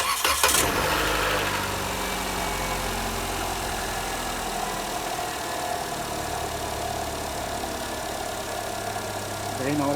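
A car engine cranks and catches during a battery cranking-amps test, with a short burst at the start that settles into a steady, moderately loud idle that runs on.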